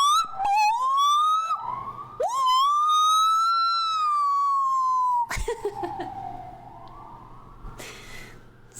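A human voice imitates emergency sirens, rising and falling wails in several close, loud bursts with rough breathy edges, the last one sliding down and fading.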